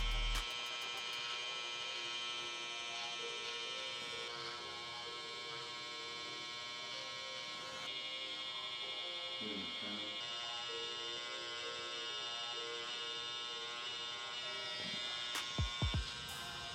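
Electric hair trimmer buzzing steadily while setting a hard line for a fade haircut, a continuous close electric hum lasting throughout with a few brief clicks near the end.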